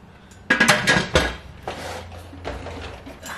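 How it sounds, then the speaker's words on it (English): Metal lid of a pressure canner being set onto the pot, giving a few close clanks and scraping clatters of metal on metal, followed by quieter rattles. "put a lid on this canner"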